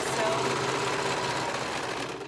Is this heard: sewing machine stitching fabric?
yes